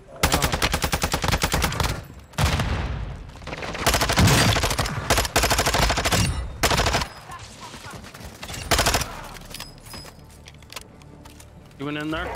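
Heavy automatic gunfire from a Vaznev-9K and other weapons in Warzone 2, long close bursts broken by short pauses, with a player talking briefly between the volleys.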